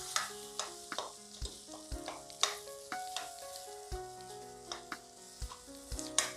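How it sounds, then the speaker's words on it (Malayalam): A spatula scrapes and taps rhythmically against a frying pan while tapioca and egg are stirred together, with repeated sharp knocks over a low, steady sizzle. "ഇനി നന്നായിട്ട് അസലായിട്ട് നമ്മളുടെ മുട്ടയും കപ്പയും കൂടെ മിക്സ് ചെയ്ത് കൊടുക്കാം"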